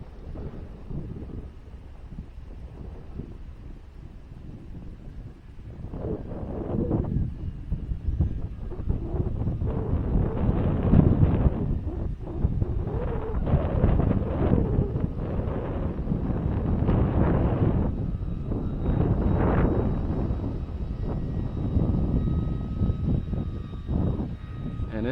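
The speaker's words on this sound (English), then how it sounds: "And it's windy today." Gusty outdoor wind buffets the microphone in rough, rumbling surges that grow stronger after the first few seconds and keep pulsing unevenly throughout.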